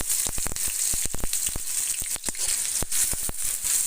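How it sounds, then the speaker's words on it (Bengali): Chopped onions fry in hot mustard oil for a country chicken curry, a close, steady sizzle dotted with sharp crackles and pops, with no voices. "পেঁয়াজগুলি ভাজা হচ্ছে"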